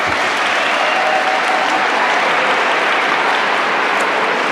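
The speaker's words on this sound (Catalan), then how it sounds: "Podeu aplaudir." A large audience of schoolchildren claps loudly, a dense, even wash of applause that holds steady throughout.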